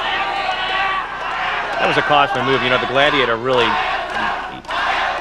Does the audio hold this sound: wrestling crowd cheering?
yes